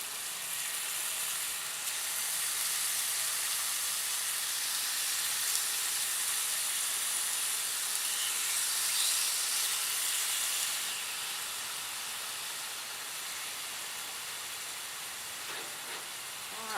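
Venison tenderloin sears in hot oil in a pan, giving a steady, close, loud sizzling hiss that holds for the whole stretch with no talking.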